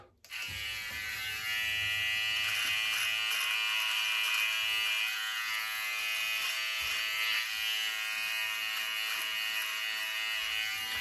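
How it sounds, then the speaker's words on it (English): A OneBlade electric shaver hums loudly and continuously up close while trimming sideburns, a steady buzzing drone with slight shifts as it moves along the skin. "If you had a beard, there's your beard trimmer, but I'm using it just for my sideburns."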